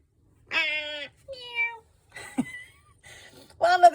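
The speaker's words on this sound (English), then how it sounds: "One of the kitties is back." A house cat meows close by, giving four or five separate meows of varying length and pitch, spaced with short pauses and ending in a louder, strained cry.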